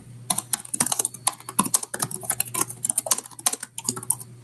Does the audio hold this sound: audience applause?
no